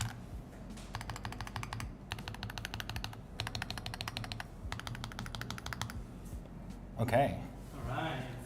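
Typing on a computer keyboard: rapid bursts of crisp key clicks in four or five runs, fairly close and moderately loud, with a voice speaking briefly near the end.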